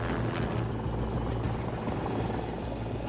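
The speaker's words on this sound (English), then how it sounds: "They divert a helicopter, which was taking tourists on a sightseeing tour, to track the jet's movements." A sightseeing tour helicopter flying over the Hudson River in New York, its rotor a steady low thudding drone that holds at a constant moderate distance throughout.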